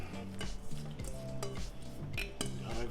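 Chopped spinach tipped into a Dutch oven of white chicken lasagna soup, with busy clanking of a metal pot and utensil and soft stirring clatter, close and steady, no talk.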